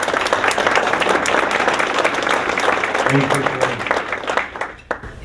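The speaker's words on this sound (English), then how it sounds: "I think she deserves a round of applause." An audience at a Florida Chamber of Commerce annual meeting applauds: dense, steady clapping from many hands that holds for several seconds, then thins and fades as a single voice begins speaking.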